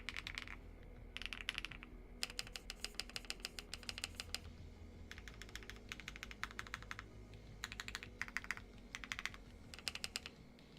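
An Epomaker Galaxy 100 Lite keyboard, rebuilt with different switches and keycaps, is typed on while held up in the air, giving quick bursts of crisp clacky keystrokes separated by short pauses. The keystrokes are fairly quiet and there is no talking.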